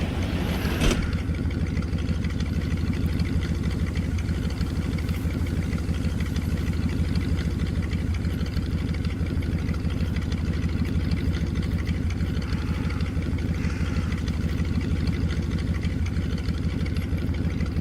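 Aircraft engines in the VR combat flight game Aces of Thunder, a steady, loud, droning hum that holds evenly throughout with no talk.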